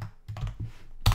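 Short clacking keystrokes on a computer keyboard as a command is typed into Geant4 simulation software, a handful of close, uneven taps ending in one sharper, louder key press.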